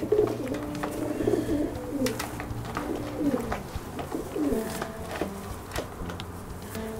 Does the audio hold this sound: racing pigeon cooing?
yes